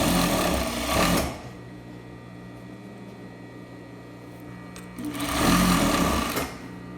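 A sewing machine stitches a skirt side seam in two loud, fast-running bursts, one at the start and one near the end, with a quiet hum between them.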